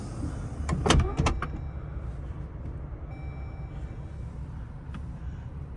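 A few sharp mechanical clunks and a motorized whir near the start, then a low steady hum as the button-operated power sliding door of a 2023 Chrysler Pacifica Touring-L minivan moves.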